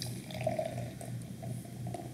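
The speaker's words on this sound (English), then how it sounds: "Let's let her rip." Beer glugs and trickles into a glass, a soft, low-level liquid pour running steadily with light splashing and no talking.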